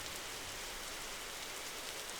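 Steady rain from the video game Nightmare Frames, a continuous broadband hiss of drops falling on surfaces, even and unbroken with no voices.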